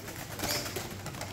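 Pigeons coo softly at a bird auction, a short, faint burst of cooing over a low background murmur.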